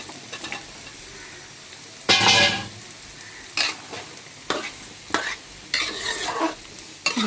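Potatoes fry in a wok with a constant soft sizzle, broken by several loud bursts of a spatula scraping and stirring through them, all close up with no talking.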